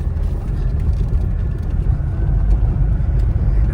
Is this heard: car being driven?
yes